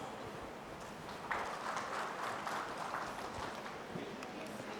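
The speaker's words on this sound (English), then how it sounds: "Can we have a bigger round of applause?" An audience applauds after a presentation, steady dense clapping throughout, moderately distant and fairly even in level.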